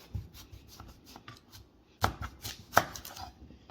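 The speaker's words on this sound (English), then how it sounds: "we're trimming up our potatoes" Knife trimming sweet potatoes into wedges on a board, with several soft scraping cuts and two sharper chopping knocks near the middle.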